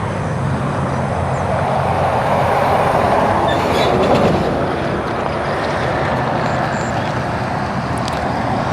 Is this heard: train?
yes